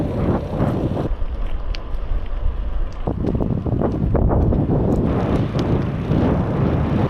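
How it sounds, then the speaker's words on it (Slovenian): Outdoor wind gusting hard across the microphone, a loud continuous roar and buffeting that briefly eases then surges again, with no voices. "Danes lahko celo malo bolj piha kakor včeraj"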